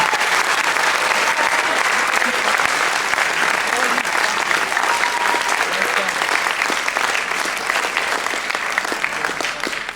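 Dense, steady applause from a presentation audience fills the whole stretch at a loud, close level, with a faint murmur of voices mixed in and no clear speech on top.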